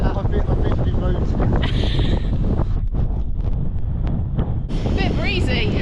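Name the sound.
wind blowing into microphone during bike ride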